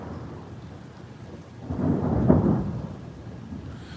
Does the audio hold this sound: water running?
no